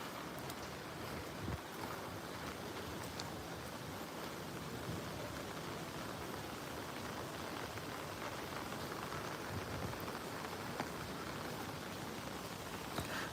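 Steady rain falls beside a river where platypuses live, a dense, even hiss of drops on water and foliage running unbroken and fairly close throughout, with no voices.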